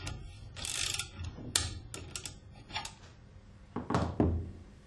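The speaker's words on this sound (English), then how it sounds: "Tighten the clamp with maximum 10 Newton meter" Clamp being tightened on an Alfa Laval valve, a series of close metallic ratcheting clicks and clanks followed by a couple of heavier knocks, with no one talking.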